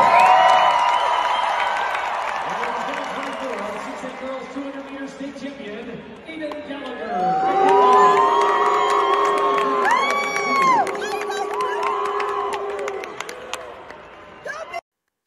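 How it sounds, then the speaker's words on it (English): A large crowd at a girls' high school state track meet podium cheers, applauds and boos, a sustained roar of voices with whoops and shouts rising loud through the middle, with speech mixed in. "crowd applauded when second place is announced and booed at Aayden Gallagher"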